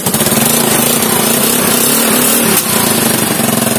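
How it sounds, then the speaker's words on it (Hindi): A Honda Activa scooter with a flat battery, kick-started by hand, runs close and loud with a steady, rapidly pulsing engine note throughout. "अभी किक से मार के स्टार्ट कर दिखा रहा हूँ"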